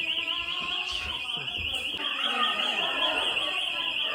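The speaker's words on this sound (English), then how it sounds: "The bloody alarm's gone off in the Chingford Scout building," A fire alarm sounds continuously inside a Scout building now used as a club, a steady piercing high tone running throughout while voices and crowd noise murmur underneath.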